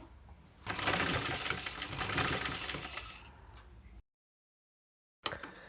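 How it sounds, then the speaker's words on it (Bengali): A sewing machine stitches designer sleeve fabric in a fast, even mechanical whir for about three seconds, tapering off, followed by a short silence and a brief click. "এভাবে করে নিয়ে আমি সেলাই করে নিচ্ছি"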